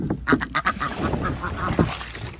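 Domestic ducks being kept and raised quack repeatedly at close range, with a cluster of loud, honking calls and overlapping bird chatter throughout.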